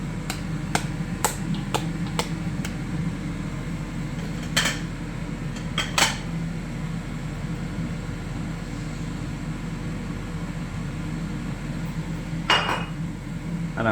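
Utensil clinking against a pan while sweet peppers are stirred into shrimp fried rice, sharp metallic ticks scattered over a steady low sizzle and hum, with a few louder scrapes, close by and without talk.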